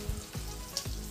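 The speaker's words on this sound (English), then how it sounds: "I've currently got the bacon in the pan, currently just frying up." Bacon sizzles steadily in a frying pan, a dense crackling hiss with a couple of sharper pops, close and continuous with no talking.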